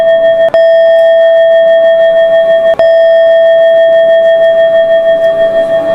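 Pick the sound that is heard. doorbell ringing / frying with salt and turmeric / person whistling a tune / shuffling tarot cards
doorbell ringing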